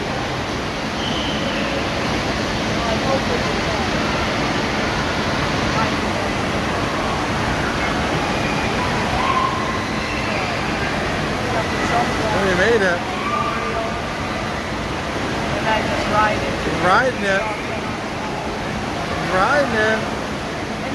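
A water park surf ride roars with a steady, loud rush of flowing water throughout, and people talk and call out over it.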